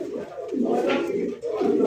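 Fancy Gola pigeons coo in a soft, throaty, repeated rolling call, close by and fairly loud, running steadily through the whole stretch with brief dips between phrases.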